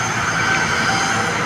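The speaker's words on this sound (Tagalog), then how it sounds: "malaki-laking eroplano ng Philippine Airlines." A large Philippine Airlines airliner passes overhead with a loud, steady roar of jet engines and broad rushing noise that holds evenly throughout.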